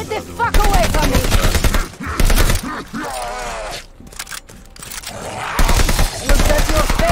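Bursts of AK rifle fire in the Call of Duty Vanguard shooter crack out in rapid fusillades, loud and close, broken by a short lull and mixed with someone talking over the shooting.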